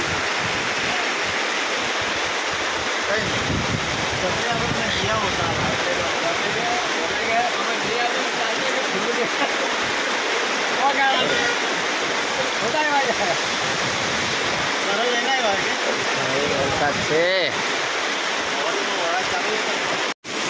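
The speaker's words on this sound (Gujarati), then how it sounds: "હટવાડામાં બહુ ભારે વરસાદ છે આજે" Very heavy rain drenches a weekly village market in Kandolpada, a dense, unbroken roar like rushing water that holds steady for about twenty seconds, with voices faintly under it.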